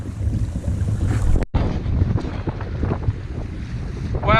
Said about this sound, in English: I don't know where the wind's come from. It's come from out of nowhere.